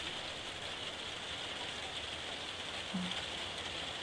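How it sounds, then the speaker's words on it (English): Steady rain falls in The Last of Us Part II, a dense, even hiss of drops on surfaces continuing without a break, moderately loud with one faint low thud near the end. "we can hear the rain here"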